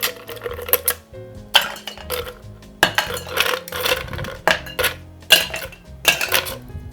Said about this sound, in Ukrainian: Додаємо лід.